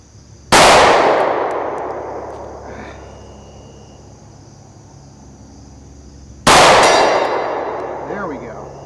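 Two sharp, loud gunshots with metallic rings from a steel target hit at about 65 yards, each a sudden crack followed by a long fading ring, several seconds apart over quiet outdoor background.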